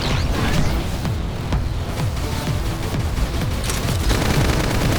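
Gunfire in Xenoblade Chronicles X: loud, continuous rapid-fire bursts and thumping shots layered with explosive booms, a dense battle barrage with no voices over it.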